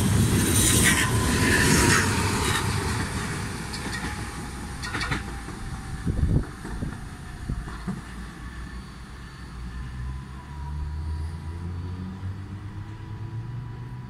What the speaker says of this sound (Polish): Odjeżdża pociąg Regio relacji Świnoujście - Szczecin Główny.